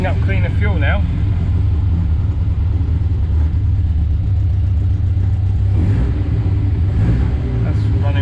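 A Morris Minor car engine runs steadily at a low, rough idle throughout after stale fuel was drained, loud and close, with a brief voice near the start.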